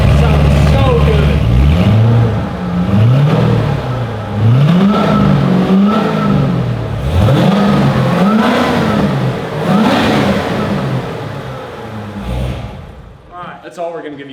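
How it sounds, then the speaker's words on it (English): Supercharged Corvette V8 blipped repeatedly, loud close revs rising and falling in a regular rhythm with a whining supercharger riding over the exhaust, a person talking briefly near the end. "I won't make you wait to hear it and hear that supercharger whine"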